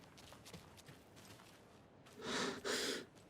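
A creature's heavy breathing in the video game Alan Wake 2, faint at first, then two loud, close, rasping breaths near the end with no talk.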